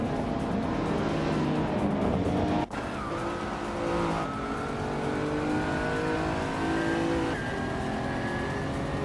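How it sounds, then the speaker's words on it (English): Race cars in a video game roar together in a continuous engine drone with rising revs and tire squeal, packed close and steady, with one abrupt click partway through. "The race kicks off with a Gretz 34 taking the lead, Lil Sprout right behind in second"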